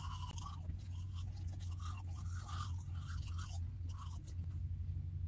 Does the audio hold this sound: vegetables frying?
no